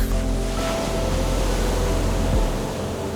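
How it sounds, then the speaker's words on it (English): Ocean waves wash past a ship in a steady, loud, broadband rush with a low rumble underneath, continuous and close, with no voices. "the waves are pouring out from the ship"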